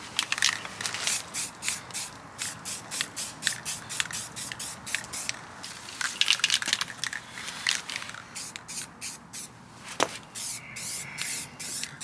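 Rust-Oleum black spray paint hissing onto a car's rear subframe in short and long bursts, close and fairly loud, with a faint rattle and a brief sharp click between sprays.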